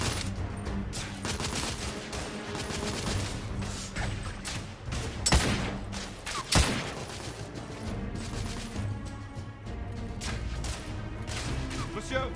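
Heavy gunfire rattles through a battle in The Order: 1886, a dense continuous fusillade with two sharper loud cracks standing out, while a voice speaks underneath.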